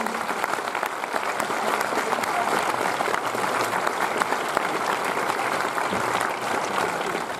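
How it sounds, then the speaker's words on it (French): An audience gives composer Gabriel Yared dense, sustained applause, a steady wash of many hands clapping at even loudness from start to finish, with a few voices faint beneath it. "Applaudissez-le très fort."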